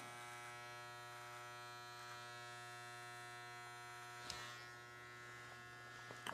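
Electric clippers buzz steadily and faintly up close while shaving along the hairline of curly hair, with a brief brushing contact partway through.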